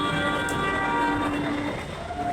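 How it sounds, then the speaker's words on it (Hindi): A metro train pulls into a station, giving a steady rumbling rail noise with a faint high whine that eases slightly toward the end. "तो जी हमारी मेट्रो आ चुकी है।"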